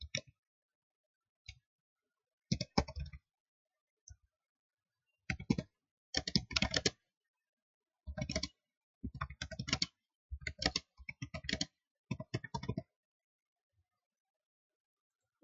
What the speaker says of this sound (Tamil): ஏதோ ஒரு டெக்ஸ்ட் இப்போ டைப் பண்றேன்.